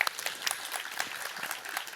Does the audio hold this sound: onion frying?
no